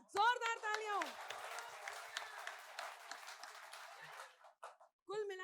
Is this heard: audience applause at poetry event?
yes